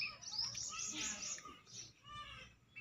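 Faint outdoor birdsong, sparrows and crows, heard as a few quick high chirps and twittering calls at a distance, with no talk over them.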